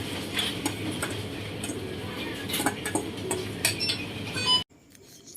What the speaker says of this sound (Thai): ตอนนี้เขาก็ตักใส่ถาดพร้อมเสิร์ฟแล้วนะครับ